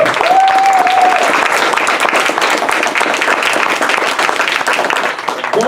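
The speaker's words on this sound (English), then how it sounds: "Let's give them a round of applause." Loud, sustained audience applause and clapping at a furry convention Jeopardy game show, a thick continuous wash of hands from a crowd, steady throughout with a brief whoop near the start.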